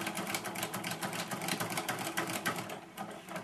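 A sewing machine stitches a placemat corner, its needle hammering in a fast, continuous mechanical buzz close up for a few seconds with no voices.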